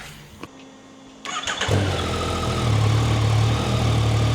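A motorcycle engine with a modified aftermarket exhaust starts after a few clicks, then settles into a loud, steady, throaty idle heard up close.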